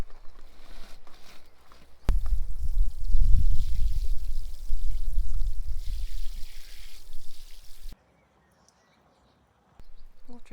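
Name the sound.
water being poured onto a log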